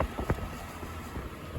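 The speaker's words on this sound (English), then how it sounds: "we are motoring into an easterly wind coming out of Whangarei harbour here" Sailboat motoring into an easterly wind out of Whangarei harbour, New Zealand: a steady low engine and water rumble mixed with gusting wind buffeting the microphone, continuous and fairly loud.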